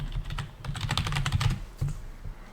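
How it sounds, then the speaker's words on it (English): Close, rapid typing on a computer keyboard comes as a burst of clattering keystrokes with a short pause, then a few more taps, with no talking. "you're going to hear me typing in the background because I'm going to bring it up"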